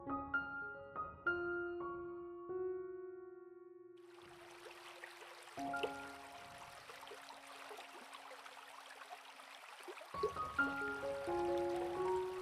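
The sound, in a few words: trickling water of a Hacienda garden water feature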